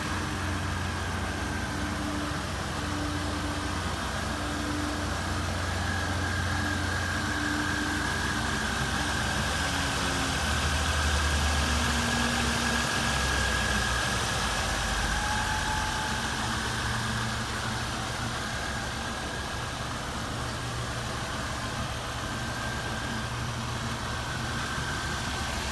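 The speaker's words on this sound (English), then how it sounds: "This is a 1999 Pontiac Firebird with a 3800 V6." A 1999 Pontiac Firebird with a 3800 V6 idles steadily in an engine test, a continuous mid-to-low rumble with a faint whine, loud and close throughout with no talking.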